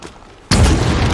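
A video game explosion erupts as one sudden, loud boom that cuts in abruptly after a quiet moment and rumbles on at full strength to the end.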